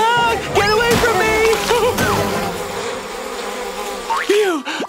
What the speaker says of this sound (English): Where are all these bees coming from?